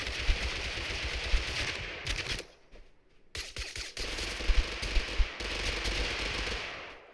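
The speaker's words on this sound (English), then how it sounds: "I was not expecting somebody to just unload missiles on me like that" Game weapons fire in TABG: a grenade launcher and missiles go off in loud, dense bursts of blasts and explosions, with a brief lull in the middle before the barrage resumes.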